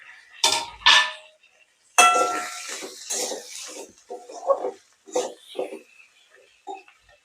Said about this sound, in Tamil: தக்காளி வந்து கட் பண்ணி வச்சுருக்கேன், இதை ஆட் பண்ணிக்கலாங்க.